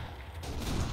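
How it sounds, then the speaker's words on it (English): Gunfire in the Kane and Lynch video game, a brief, loud, rumbling burst of shots that swells and stays heavy through the moment, no speech. "Who's shooting at me now?"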